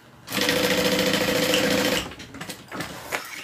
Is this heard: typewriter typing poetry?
no